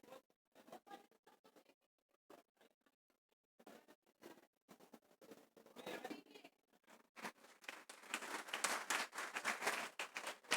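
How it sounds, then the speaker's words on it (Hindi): Audience clapping at a folk music stage event, starting as scattered, broken bursts of claps and building into fuller, louder applause toward the end, close and lively. "बहुत जोर से ताली बजनी चाहिए।"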